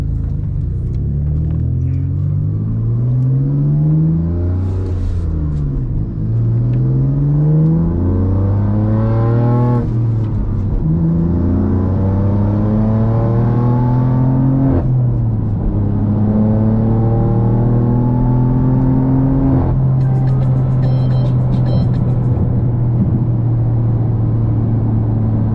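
Two BMW M performance cars, a 550 whp F80 and a 500 whp G80, accelerate hard through repeated gear changes, engine pitch climbing and dropping in loud sweeping pulls with a constant deep rumble and no talking.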